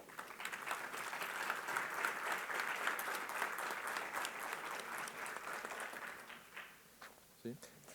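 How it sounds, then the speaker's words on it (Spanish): Applause from an audience at a transport-strategy event, a steady dense wash of clapping that holds for about six seconds and then thins out into scattered claps and faint voices. "para los cuales pido por favor un fuerte aplauso."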